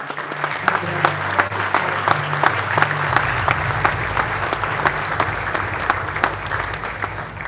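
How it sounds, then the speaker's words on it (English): Loud, steady applause from a large audience at a KTM MotoGP team presentation, welcoming the Red Bull partnership, with dense clapping sustained throughout under a low musical hum. "Very big applause for Red Bull."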